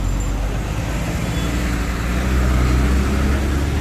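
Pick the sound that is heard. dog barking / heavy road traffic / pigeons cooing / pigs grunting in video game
heavy road traffic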